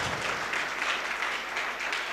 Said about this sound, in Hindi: तालियों से स्वागत कीजिएगा बेटा